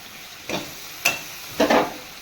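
Potatoes and carrots with yogurt and spices being stirred in a pan, three short scraping, sizzling bursts at a steady interval, fairly close and moderate in level with quiet gaps between.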